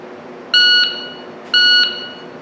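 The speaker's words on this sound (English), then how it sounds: "you'll get a beep when you start, and then a beep when it stops after 1 second" Two identical electronic shot-timer beeps for pistol draw practice, each a loud steady tone lasting about a third of a second, spaced one second apart over low background noise.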